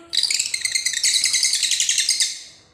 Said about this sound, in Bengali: এই যে আমার সোনারা কত ডাকছে পাখি